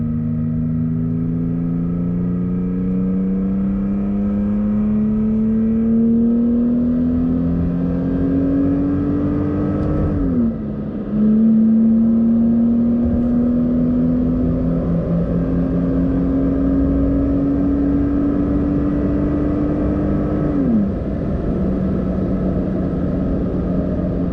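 A 2017 Toyota Tacoma TRD Off-Road with an Mbrp TurnDown exhaust accelerates slowly and steadily, its engine note climbing through two gear shifts with brief dips, loud and close throughout with no talking.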